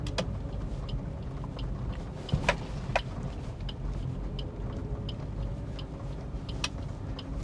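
A car turning left while driving fills the cabin with a steady low engine and road rumble, broken by a few faint clicks and knocks and no speech.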